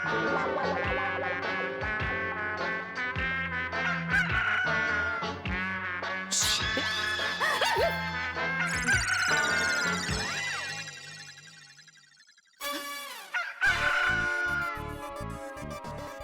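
Repeated rooster crowing comes from inside a closed cupboard, a series of shrill, clear calls with a brief drop in loudness before a final burst.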